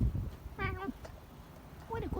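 A cat meows twice, a short clear meow followed by a softer one, amid low background noise.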